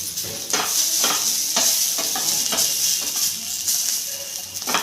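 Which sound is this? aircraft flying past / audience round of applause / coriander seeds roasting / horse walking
coriander seeds roasting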